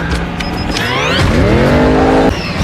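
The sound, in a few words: old cars boosting with nitrous in a film chase (Hobbs & Shaw)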